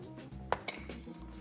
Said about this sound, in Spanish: Batir los huevos.